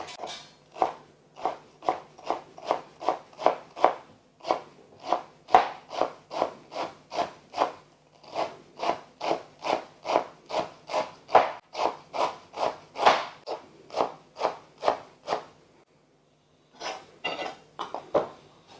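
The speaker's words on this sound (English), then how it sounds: "we're going to cut up some stems very finely" A knife chops coriander stems finely on a cutting board, a steady run of about thirty sharp, close taps in quick rhythm, with a brief pause near the end before a few final chops, without any talking.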